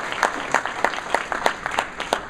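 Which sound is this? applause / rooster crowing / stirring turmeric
applause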